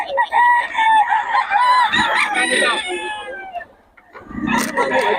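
Roosters and chickens at a Filipino poultry seller's pen crow and cluck loudly and close, a long crow followed by a short pause and further clucking and squawks.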